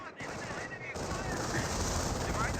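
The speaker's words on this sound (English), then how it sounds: "MG42 now firing away." An MG42 machine gun in Company of Heroes fires a sustained burst, a dense continuous rattle that kicks in after a brief pause and holds loud to the end.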